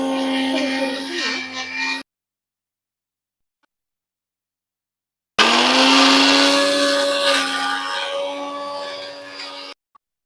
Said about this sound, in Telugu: సో, ఇప్పుడు మిక్సీ పట్టేద్దాం.